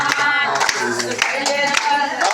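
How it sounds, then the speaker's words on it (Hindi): An audience claps hands along with a devotional song, a dense, loud patter of many hands with a sung voice and music running underneath. "ताली बजा के"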